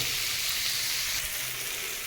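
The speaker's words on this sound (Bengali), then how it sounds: "পেঁয়াজ টমেটোটা আমার সুন্দর করে ভাজা হয়ে গেছে" Onion and tomato fry in a pan for a Bengali rohu fish curry, giving a steady, close hiss of sizzling oil that barely changes from start to finish, with no voices.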